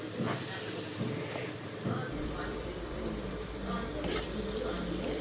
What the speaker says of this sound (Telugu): ఆనియన్ అనేది ఫ్రై అవుతుంది కదా